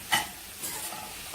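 Onions sautéing in a pan for a Chettinad vegetable korma give a soft, steady sizzle with a brief stir or clatter near the start. No one speaks.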